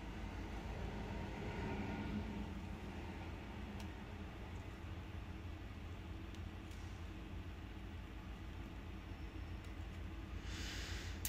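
A train rumbles steadily past outside open windows while someone works with wire, a loud continuous low roar filling the whole stretch with no talk.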